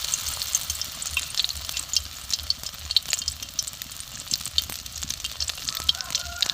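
Balls of spinach, small shrimp, egg and spice kofta fry in a pan with a steady, close sizzle and crackling spatter that continues without a break.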